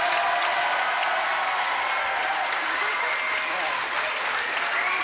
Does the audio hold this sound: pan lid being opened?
no